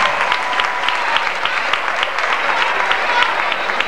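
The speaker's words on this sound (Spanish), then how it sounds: "más fuertes aplausos" Audience applause at an Atlético club 82nd anniversary celebration, a dense steady wash of many hands clapping at even loudness for the full four seconds, with faint crowd noise mixed in.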